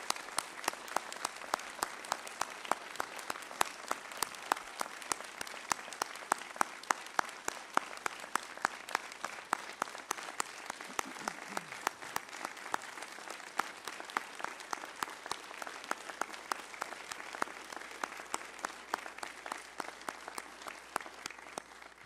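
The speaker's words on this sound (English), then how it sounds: "we want to give them a round of applause for serving our country" An audience gives a sustained round of applause for military veterans at a church service, dense steady clapping that runs evenly throughout without pause or voices.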